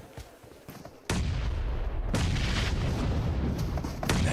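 A grenade going off in a PUBG Mobile esports match lands as a sudden loud blast, followed by a sustained heavy rumble and further booming impacts close by.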